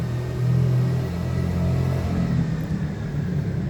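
A car with a rough-running engine rumbles and revs unevenly inside a parking deck, a steady low droning growl that swells briefly and continues throughout without any talk.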